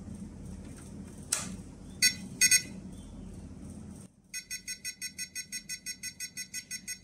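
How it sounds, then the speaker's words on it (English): A few scattered clicks and chirps, then a rapid series of high electronic beeps repeating evenly from a T8FB transmitter's low voltage alarm, sharp and steady to the end. "the beeping sound is caused by transmitter low voltage alarm"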